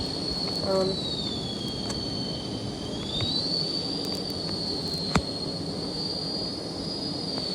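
Jet engine of an F/A-18 Hornet in a flight simulator game, a steady loud whine with a sliding high tone over continuous rumble, one short click partway through.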